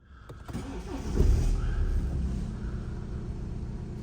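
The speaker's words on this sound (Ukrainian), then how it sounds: "Так, оберти. Оберти тримає він правильно." A BMW car engine turns over and settles into a low, steady idle rumble, close by and constant after a brief rise at the start.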